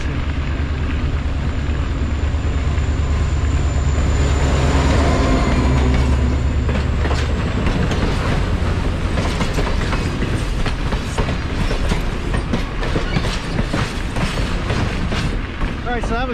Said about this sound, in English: so that was definitely like a tourist train